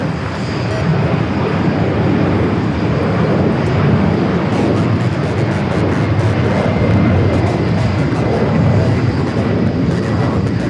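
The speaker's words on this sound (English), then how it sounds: "Emirates making its way down to 4 rights here at JFK." An Emirates airliner lands on runway 4 right at JFK in New York, its engines giving a heavy, continuous roar that swells slightly after the first second and holds steady and loud, with no speech.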